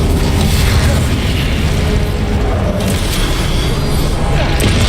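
Incendio fire spells cast in the game Hogwarts Legacy produce a loud, dense, continuous roar of bursts and booms with no break and no talking.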